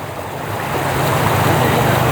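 A motorcycle pushes through deep, fast-flowing flood water on a road swamped after heavy rain and a clogged drain, with a continuous loud rushing, sloshing wash of water and engine rumble that swells midway.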